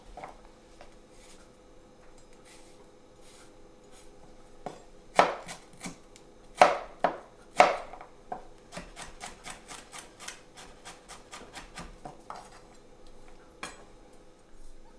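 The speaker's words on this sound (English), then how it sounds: "Next, we will mince the garlic." A knife mincing three garlic cloves on a cutting board: sparse taps at first, then a few sharp heavy chops followed by a quick steady run of rhythmic knocks, close and crisp with a faint hum underneath.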